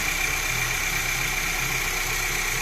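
A cold Volkswagen CC 2.0 TSI engine idles steadily and evenly at close range, a smooth continuous hum with a faint high whine.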